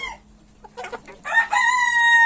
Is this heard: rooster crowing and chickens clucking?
yes